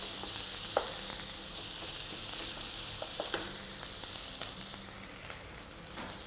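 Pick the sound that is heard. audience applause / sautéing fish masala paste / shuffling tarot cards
sautéing fish masala paste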